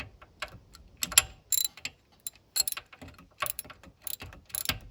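Boat outboard motor drain plugs being gently snugged down with a ratchet during winter draining, giving irregular close clicking and ratcheting bursts with brief pauses, no talk.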